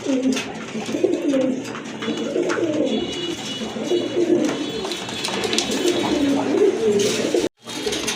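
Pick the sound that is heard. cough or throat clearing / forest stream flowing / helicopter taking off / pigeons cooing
pigeons cooing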